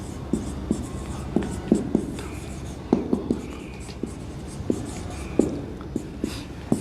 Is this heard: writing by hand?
yes